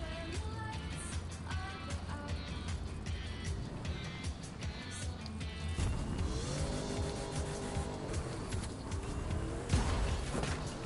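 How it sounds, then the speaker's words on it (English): Muscle car engine and side-exit exhaust in The Crew 2 racing game, a steady loud drone with rising and falling rev sweeps and brief tire noise, continuous throughout. "All of the muscle cars have the same sound."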